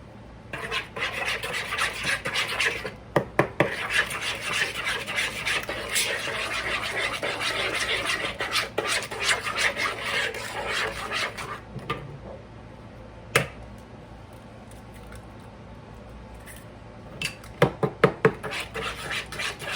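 Eggs being mixed into gingerbread cake batter in a bowl: rhythmic scraping and rubbing of a utensil against the bowl with sharp clinks, steady for about twelve seconds, then sparse taps near the end.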